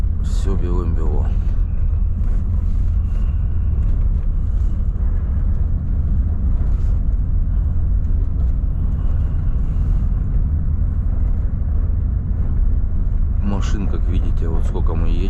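A Volvo FH 540 truck driving on a snowy road toward Yakutsk gives a loud, steady low engine rumble heard from inside the cab, with a voice speaking briefly at the start and near the end.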